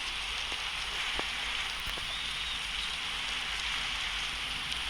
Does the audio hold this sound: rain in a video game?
yes